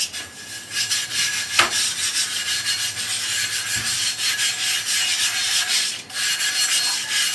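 Abrasive grit is rubbed in by hand while clipper blades are sharpened, making a continuous, close, gritty back-and-forth rubbing that sounds like rasping, with one or two brief knocks.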